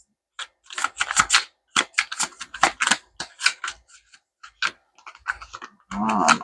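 Rapid bursts of crisp tarot-card shuffling riffles and flicks, close by, in short irregular bursts with brief pauses between them.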